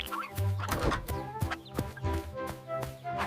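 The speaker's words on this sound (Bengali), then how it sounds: "মুরগি নিজের প্রতিবিম্ব দেখে আনন্দে কুকুরুকু করলো।" A cartoon hen clucks in short, close, bright bursts with a few soft thumps between them.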